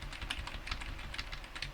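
Keys on a computer keyboard are tapped in quick succession, mostly Q and E, giving a faint, close run of light clicks at a brisk, slightly uneven rhythm with no voices.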